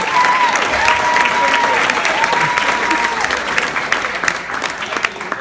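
Wedding guests applaud in a dense, sustained round of clapping that stays loud and fairly close, with a few cheers and faint voices mixed in as it slowly tapers.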